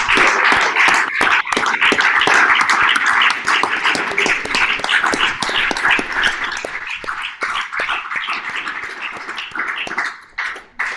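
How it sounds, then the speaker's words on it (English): Dense, sustained clapping from an audience honoring performers at an evening show, loud and close at first, then thinning and tapering toward the end, with no speech over it. "Can we give everyone a huge round of applause?"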